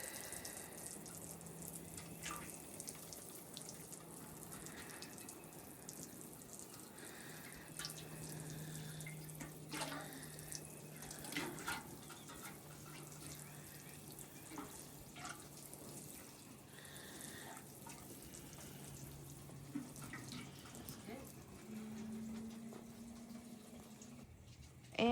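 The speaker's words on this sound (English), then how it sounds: "I think I need to do one more rinse." Water sloshes and trickles steadily while a carpet is rinsed during at-home cleaning, a faint continuous wash with occasional splashes and drips over a low background hum.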